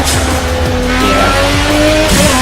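Car tires lock up and skid in the Project Cars racing game, a loud sustained squeal riding over steady engine drone for a couple of seconds.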